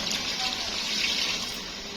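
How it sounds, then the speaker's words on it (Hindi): Water is poured into browned chicken korma masala in a pot, producing a continuous loud gushing splash for the full short stretch. "अब हम इसमें ऐड करेंगे पानी को"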